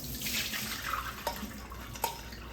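Water runs and splashes into a sifter as rice is rinsed at a kitchen sink, a continuous gush punctuated by two sharp clinks of the sifter.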